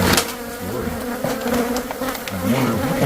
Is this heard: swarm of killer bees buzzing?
yes